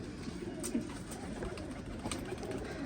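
Pigeons cooing softly in a loft, a few low murmuring coos over a steady background hum, with no voices.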